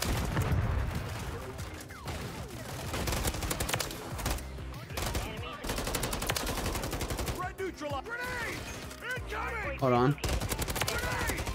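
Rapid automatic gunfire from a weapon in the video game Modern Warfare 3 rattles in dense bursts with scattered single shots, mixed with game effects, while a player talks briefly.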